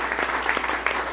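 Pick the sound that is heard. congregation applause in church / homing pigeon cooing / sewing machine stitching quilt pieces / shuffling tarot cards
congregation applause in church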